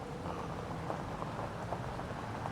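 Steady rain falls in Farming Simulator 25 on a Frankenmuth, Michigan farm map, a continuous dense hiss with faint low rumbles beneath, even and constant throughout with no talking.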